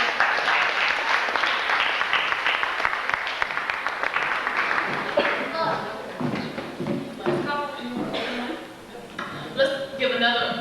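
Audience applause at a poetry and spoken-word evening, dense clapping for about five seconds before thinning into scattered claps with talk and murmuring among the crowd.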